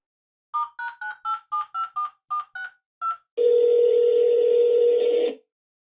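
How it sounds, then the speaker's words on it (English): A telephone dials a number, giving ten short tone beeps in an uneven rhythm, followed by a steady two-second ringback-style tone, clear and alone with no talking. "I gave you the number, can you please dial Fred Simmonds?"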